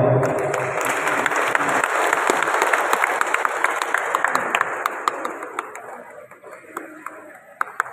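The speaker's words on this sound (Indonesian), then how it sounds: "Ya, beri tepuk tangan Bapak Ibu." Audience applause at an Indonesian official ceremony for DPR and DPRD members, a dense, sustained clapping from a crowd that gradually thins and fades over several seconds.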